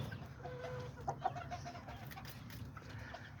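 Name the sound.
small Azteca rooster and chicken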